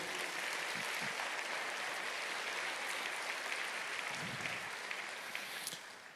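A church congregation claps steadily and fairly loudly throughout, a dense wash of applause that thins slightly toward the end.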